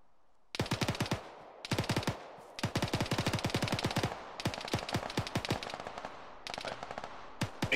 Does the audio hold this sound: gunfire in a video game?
yes